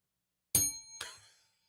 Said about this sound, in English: And the bell gets rung.